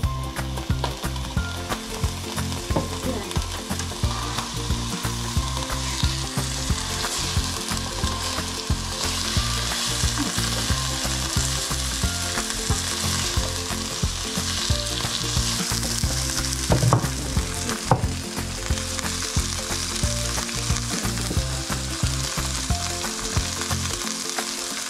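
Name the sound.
meat frying in a pan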